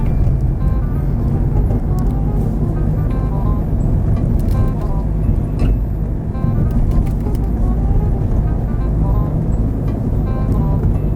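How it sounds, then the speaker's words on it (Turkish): A car driving on a road in second gear, a loud steady low engine and road rumble heard from inside the cabin, continuous throughout. "İkinci vitese aldım tekrar yoldayım."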